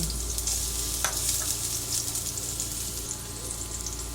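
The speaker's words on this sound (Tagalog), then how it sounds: "Igisa po natin ng maigi hanggang sa maging translucent po ang kanyang kulay." Onion and garlic sautéing in a pan, a steady close sizzle with faint stirring scrapes and a clink or two, no talk.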